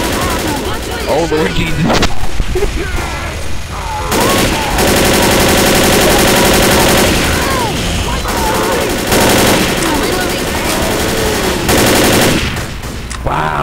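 Minigun turret firing continuously in the video game Left 4 Dead, a loud dense stream of rapid shots in long sustained bursts with brief breaks, while players talk excitedly over it.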